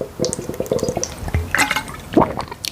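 Someone sips water from a water bottle in an apartment kitchen at breakfast: soft wet swallows and liquid sloshing, close and quiet, with small clinks and shifts around them.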